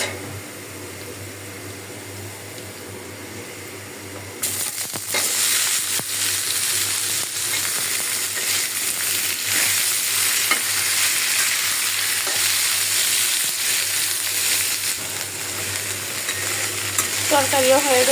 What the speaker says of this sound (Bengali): শাক বাগারের জন্য আমি কড়াই বসাই দিলাম, পেঁয়াজ রসুন দিয়ে দিলাম।